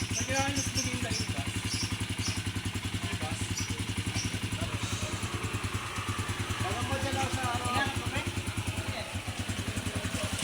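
A motorcycle engine runs steadily at idle just after an oil change, its close, even, rapid putter continuing unbroken throughout, with voices talking over it.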